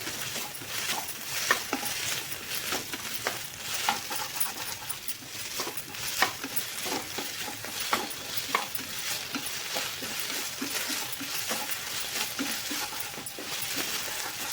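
Okra (lady's finger) stir-fried in oil in a pan, a steady loud sizzle with scattered clicks and scrapes of stirring throughout, no voices.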